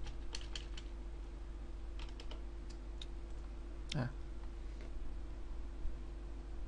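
Typing on a computer keyboard while coding Java, a run of quick light clicks in small bursts with a few isolated key taps and a louder click near the middle, over a steady background hum.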